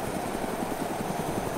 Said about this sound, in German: Ich laufe Richtung Heli. Er wird immer lauter.